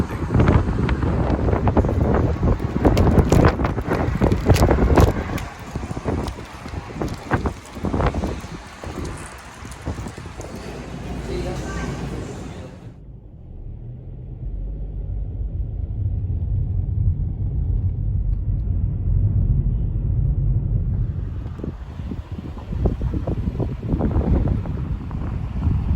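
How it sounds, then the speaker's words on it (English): Strong wind buffets the microphone outdoors in north Texas during a wind advisory, producing loud, roaring gusts that ease into a lower rumble before surging again, with no one speaking. "It's very, very windy."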